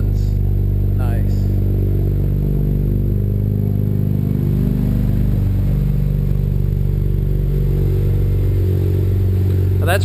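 A fully cold BMW 335i idles through an HPF 3.5-inch stainless steel Gen 2 exhaust, producing a loud, close, deep and even drone that holds steady throughout, with people speaking briefly over it at the start and end.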